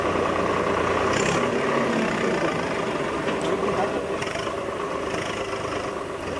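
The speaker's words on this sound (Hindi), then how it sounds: "ट्रैक्टर चलाकर संसद की ओर बढ़ रहे हैं" Tractor engine running steadily as it is driven toward Parliament during a farmers' protest against farm laws, a continuous mid-to-low rumble under crowd noise and voices throughout.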